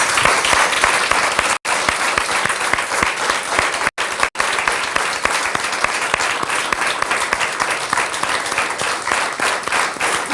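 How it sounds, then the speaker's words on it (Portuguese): A television studio audience applauds on an afternoon talk show, dense, even clapping that fills the whole stretch loudly and steadily, broken only by a couple of brief cuts. "Uma salva de palmas para isso."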